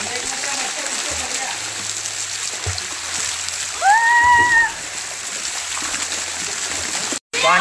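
Someone wades into a cold waterfall pool, and splashing water sits over the constant rush of falling water, with brief voices partway through.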